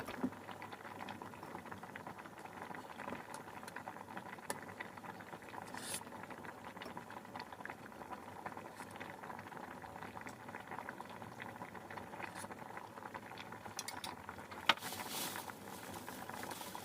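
Korean beef bone broth made from Hanwoo bones, simmering in a pot after about an hour of cooking, a steady bubbling and popping boil, close and fairly quiet, with a few sharper pops near the end.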